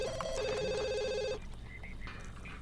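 Electronic telephone ring from The Sims 2 game, a bright warbling two-tone trill with harmonic overtones that sounds loudly for about a second and a half, then stops abruptly, leaving quieter game ambience with faint chirps.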